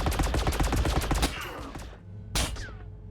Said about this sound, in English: Heavy weapons firing.